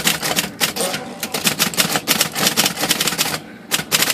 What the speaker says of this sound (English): Very fast typewriter.